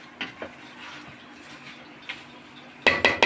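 A metal spoon scrapes and clinks against a cooking pot while rice is stirred, with a few soft taps early on and a quick burst of sharp clatters at the end over a low steady hum.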